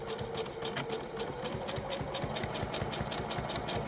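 A sewing machine stitches the bottom hem of a bag, running in a fast, even mechanical rattle throughout at moderate, close volume.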